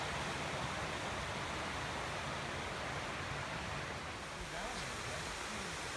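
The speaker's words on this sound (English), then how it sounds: "here we got another little stream coming through the woods alongside this road" A small stream flows through woods beside a hiking road near Campbell's Ledge, Pennsylvania, a steady broadband rush of running water, faint and continuous, with a voice speaking softly underneath.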